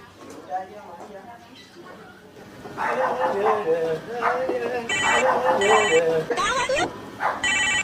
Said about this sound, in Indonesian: Ada telepon bunyi.